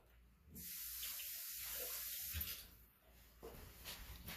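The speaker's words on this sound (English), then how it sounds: "I'm going to get a little bit of water on my hands" A kitchen tap runs in a steady hiss of water as hands are wet before handling sourdough bread dough, with small splashing changes partway through and no talk.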